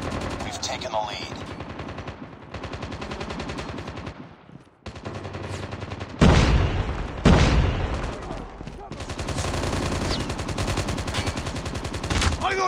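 Gunfire in a Call of Duty video game, with rapid machine-gun bursts and single shots, loud and close, interspersed with louder blasts and game sounds; a voice is heard now and then.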